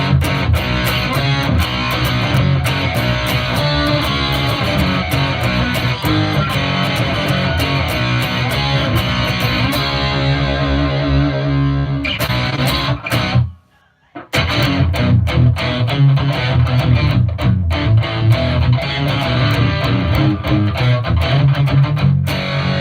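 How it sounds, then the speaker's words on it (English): Heavily distorted electric guitar through a Headrush unit with a Pro Co RAT distortion model into a clean amp, playing continuously and loud, with a brief silent break partway through before the crunchy tone resumes. "Let's add a distortion."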